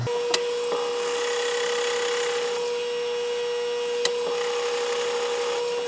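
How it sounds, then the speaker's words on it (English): A wood lathe spins a pen blank at a slow 500 RPM, giving a steady tonal hum while the cutting tool scrapes and shaves the wood in a continuous rasp, with a few sharp clicks and no speech. "I've got the lathe slowed down to 500 RPMs."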